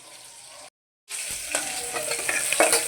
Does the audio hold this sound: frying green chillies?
yes